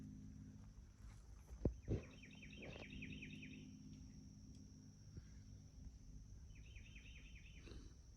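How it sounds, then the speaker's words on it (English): Short chirpy bird tweets in a quiet forest, a patterned call repeating in two brief bursts with a pause between, over faint low background hum and a couple of close rustling footsteps. "See, that bird-tweet sounds about where the owl came from."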